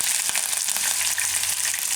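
Cumin seeds and red chillies crackle and sizzle steadily in hot oil, a loud, bright, continuous frying hiss with no talking.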